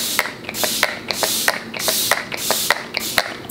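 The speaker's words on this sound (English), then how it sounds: "So I can spray my face down," Setting spray misted onto a face after blush application, a rapid series of short, bright hissing spritzes in quick succession, close and crisp, with no talking.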